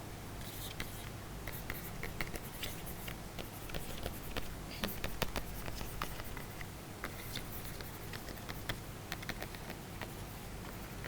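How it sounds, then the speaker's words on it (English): A title being written on a board, with continuous scratchy marker or chalk strokes tapping and squeaking steadily for several seconds, close and moderately quiet, no speech. "Let me write the title."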